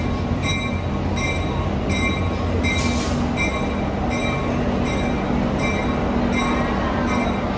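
A vintage train rolling into a station rumbles and rolls steadily, with periodic clacks of wheels over rail joints and a brief high squeal partway through, heard up close.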